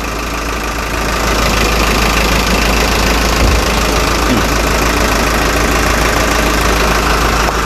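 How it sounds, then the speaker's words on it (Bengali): A used mini bus engine idles steadily at close range, a loud continuous low rumble with a faint knocking texture, unchanging throughout and with no voices over it. "এই হচ্ছে ইঞ্জিন, বর্তমানে স্টার্টে আছে"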